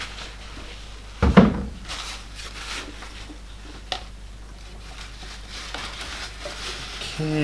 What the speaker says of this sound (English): Carefully with drawers so you don't make a mess.